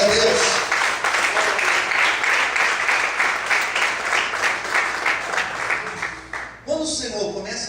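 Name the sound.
church congregation applauding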